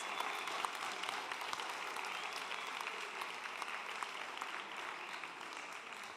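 A crowd at a Climathon closing ceremony in Turin claps continuously for a group taking the stage, a steady wash of applause that slowly tapers in loudness, with no talking over it.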